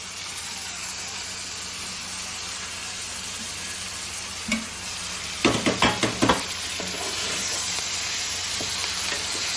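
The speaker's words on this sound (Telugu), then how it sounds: "ఇప్పుడైతే ఈ దోసకాయలు టమాటాలు మనం ఒకేసారి వేసేసుకోవచ్చు" Chopped yellow cucumber and tomatoes fry in a hot pan with a steady low sizzle, broken midway by a short burst of clattering stirring strokes before the hiss settles again.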